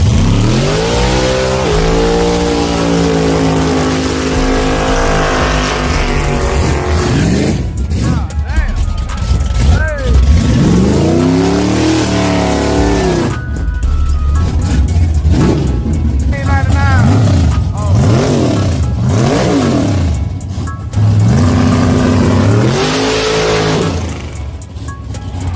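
A car engine revs hard and loud through a street burnout, with rising and falling revs, bursts of acceleration and gear changes, while people shout and talk over the roar.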